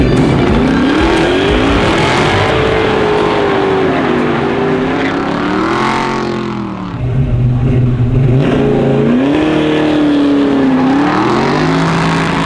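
Race car engine at a racing event, revving loud and close in sustained rising and falling sweeps that dip briefly midway before climbing again, with no talk over it.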